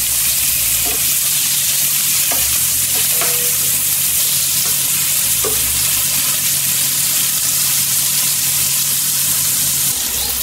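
Katla fish frying in hot oil in a pan, a loud, continuous sizzle with occasional soft clinks and stirring sounds, no voices.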